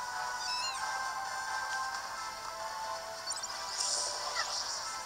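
Cartoonish cat meows rise from the busy soundscape of Kingdom Hearts 3D, several short chirpy mews scattered over steady game music and effects, with no talk heard.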